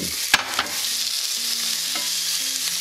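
Shrimp frying in a drizzle of olive oil in a pan, a loud continuous sizzle with a sharp clack near the start and a few lighter utensil knocks.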